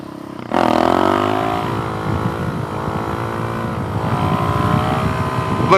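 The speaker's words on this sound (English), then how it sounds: "Let's end this video with a wheelie." A motorcycle engine climbs in pitch under hard throttle as the rider lifts into a wheelie, then holds a loud, steady drone close by, with wind buffeting underneath.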